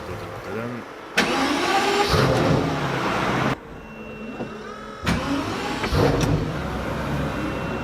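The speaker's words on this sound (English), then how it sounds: "to start the engine you take the key" Pagani Huayra engine started with a key: two sudden loud starter bursts, each catching into a revving roar, with a quieter pause between them and a voice talking over the sound.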